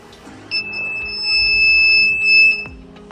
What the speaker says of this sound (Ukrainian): щоб коли хтось наближався до проволоки, бузер починав пищати